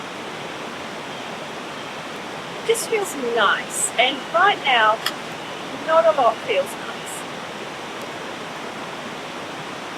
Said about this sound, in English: I'm so sorry about the noise of the river.